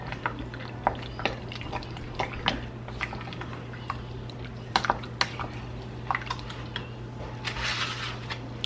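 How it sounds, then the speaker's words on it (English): Sausage casserole ingredients being stirred together in a bowl, with soft, irregular scraping and squishing clicks over a steady low hum, close and fairly quiet, with no talking. "Next, I'm going to just stir this all together."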